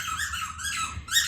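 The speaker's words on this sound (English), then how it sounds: "enter Augie with his squeaky avocado toy" A squeaky avocado dog toy squeaks in quick, bright bursts, three or four squeezes in a row, close and loud.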